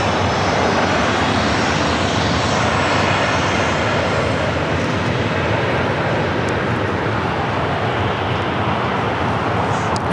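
Jet airliner at LAX during reverse operations in challenging weather, its engines roaring steadily and loudly for the whole stretch with no pauses.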